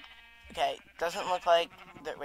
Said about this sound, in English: there's a red sheep over here